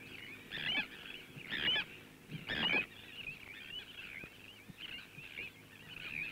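A dense sandwich tern breeding colony on a Wadden Sea islet calls continuously, harsh grating cries rising in repeated bursts over a steady background chorus.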